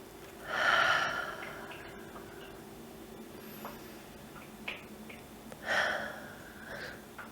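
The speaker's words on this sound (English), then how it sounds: "Deep breath in, deep breath out." Slow, deep breaths are taken close to a microphone in a calm whispery setting: two long airy inhales or exhales a few seconds apart, with soft mouth clicks between.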